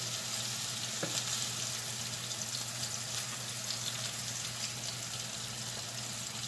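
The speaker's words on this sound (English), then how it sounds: "you just want to get a nice sear on them" Pork chops sear in a frying pan with a steady, even sizzle and faint crackle throughout, alone with no talk.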